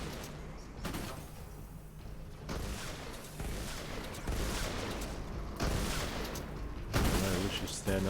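Pain Train weapon going off in Fortnite Save the World during a Stonewood storm shield defense, with repeated heavy blasts and booming bursts layered over continuous game noise and a talking voice.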